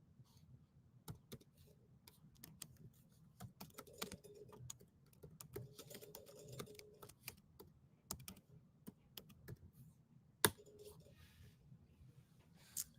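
Computer keyboard typing in quiet, irregular bursts of key clicks over a low room hum, fairly faint and close, with one sharper louder key strike near the end and no talking.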